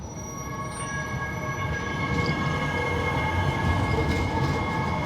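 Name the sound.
city ambience from on-camera microphone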